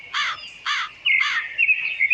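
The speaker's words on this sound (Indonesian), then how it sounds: "Kamu mendengar di wilayah ini ada suara seperti suara burung." Three loud harsh caws from a bird in a forest scene from a film, evenly spaced, followed by a thinner, higher whistling call trailing off, close and alone against quiet.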